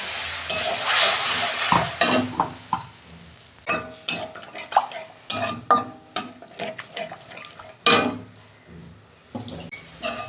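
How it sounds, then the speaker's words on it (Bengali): Ground spices frying in oil and stirred in a pan for a thin catfish curry, a close sizzle broken by sharp, irregular scraping strokes of a spatula, with water running faintly early on. "আমি মশলাটা দিয়ে দিচ্ছি।"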